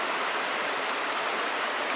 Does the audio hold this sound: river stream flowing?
yes